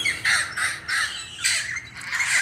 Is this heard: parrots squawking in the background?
yes